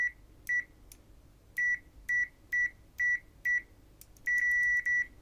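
AN870 multimeter in continuity mode beeping as the probes touch, a steady tone repeated about eight times in short bursts, with one longer beep near the end, loud and close, no talking.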